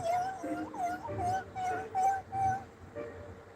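A human voice imitates a dog running away, giving a series of short, rising whimpering yelps in a quick uneven rhythm, fairly faint.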